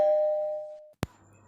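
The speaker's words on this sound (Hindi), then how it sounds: "उतने में ही दरवाजे की घंटी की आवाज़" A single doorbell chime rings out clearly and decays for about a second, then a short sharp knock or click follows in an otherwise quiet room.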